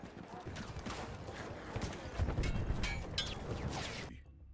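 Artillery shells land in Battlefield 1, producing rumbling explosions and crackling blasts in quick irregular succession, loud and close, over a dense battlefield din that cuts off abruptly at the end.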